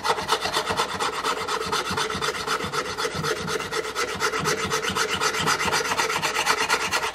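A file rasps steadily back and forth along a Gibson A model mandolin's wooden fretboard to taper it, producing a continuous, close, scratchy rubbing with a quick regular stroke rhythm and no talking.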